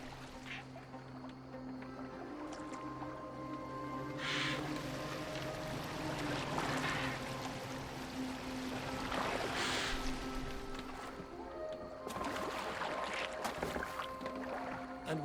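Water laps and swishes against a boat in Assassin's Creed Valhalla, a steady wash of waves running throughout with occasional splashes and faint game ambience underneath.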